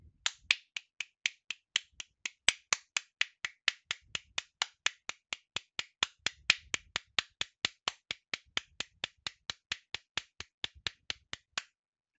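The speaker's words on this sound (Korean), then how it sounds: "이번에는 박수를 쳐보도록 하겠습니다." Hands clapping close to a headset microphone plugged straight into a PC, about forty sharp, evenly spaced claps in a steady rhythm with near silence between them.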